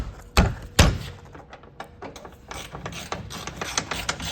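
Ratchet wrench tightening a bolt on a removable roof panel of a 1984-1996 C4 Corvette, two sharp clunks followed by a quicker run of close, clicking ratchet strokes.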